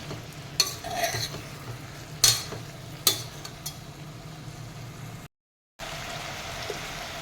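Brinjal rice sautés in a pan with a soft, continuous sizzle and several sharp spoon-on-pan clinks, heard close, with a brief dropout near the end and no talk.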